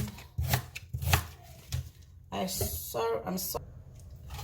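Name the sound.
chopping ginger, onion and spring onion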